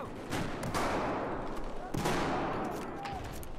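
Shotgun fire from a shooter video game, a few loud sharp blasts spaced apart over a noisy, busy game background.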